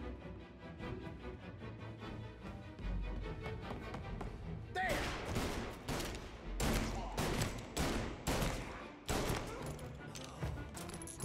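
Gunfire in Mafia Definitive Edition during a hotel raid: a rapid, ragged series of loud bursts and shots, some clustered, continuing for several seconds over a steady background bed.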